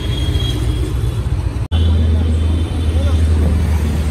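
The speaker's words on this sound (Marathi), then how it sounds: "लय ट्रॉफिक आहे रे बाबा।" Heavy road traffic in Pune, a loud constant rumble of engines and passing vehicles close by, with a sudden brief dropout and a deeper engine drone continuing afterward.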